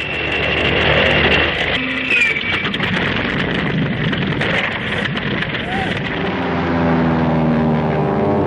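Propeller warplanes drone through a wartime film soundtrack, a steady engine roar with passing tonal whines and shifting pitch, layered with rumbling effects under the mix.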